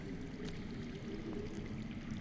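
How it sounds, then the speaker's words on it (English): Underground water flowing somewhere out of sight in the Game of Thrones Telltale video game, a steady low rushing wash that runs faint and unbroken with no speech. "I hear water."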